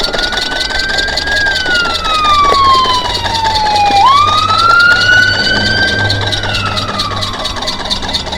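Worn electric bike brakes squealing loudly in San Bernardino, a piercing high whine that slides down in pitch, jumps back up and slides again, over steady riding noise.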